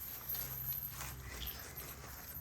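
A small, sleek, stocky Hutsul horse moves close by, its hooves giving a steady clip-clop over a noisy outdoor background, with no talk.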